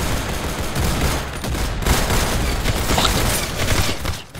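Gunfire in the Roblox game Arsenal, including a double-barrel shotgun, comes as a dense, loud, continuous barrage of shots and bursts with no talk.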